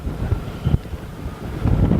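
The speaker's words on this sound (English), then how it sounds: "Too windy." Strong wind blows over a lake in North Dakota, buffeting hard with low rumbling gusts that rise and fall, loud and close, no talking.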